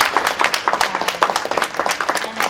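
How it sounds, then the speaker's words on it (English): Small audience at an awards panel giving a brief round of scattered, distinct handclaps, close and moderately loud. "So a round of applause for everyone that's already here."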